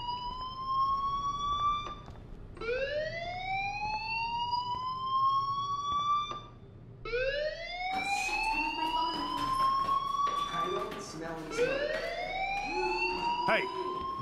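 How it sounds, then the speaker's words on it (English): A fire alarm in the video game Life is Strange wails with repeated rising sweeps, loud and steady for the whole stretch, with other game noises joining in toward the end. "Hey, do you hear that fire alarm?"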